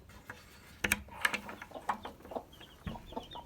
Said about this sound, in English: Now we're going to take a look at the baby chicks, see how they're doing.